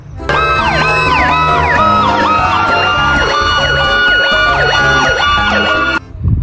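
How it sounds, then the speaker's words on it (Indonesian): A toy fire truck's electronic siren wails loud and close in quick repeating up-and-down sweeps for about six seconds, then cuts off abruptly. "yang ini mobil pemadam kebakaran."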